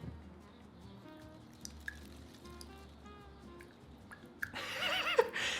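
Rinsing plant cutting roots in water: soft drips and small trickles, quiet and close, building into a louder burst of splashing and pouring near the end.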